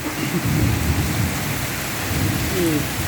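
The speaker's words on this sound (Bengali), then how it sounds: "প্রচণ্ড বৃষ্টি, প্রচণ্ড পর্যায়ে বৃষ্টি।" Heavy rain pours down steadily in a loud, dense hiss, with low thunder rumbling underneath throughout.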